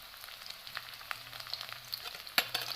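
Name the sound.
onions and dried chillies frying in hot oil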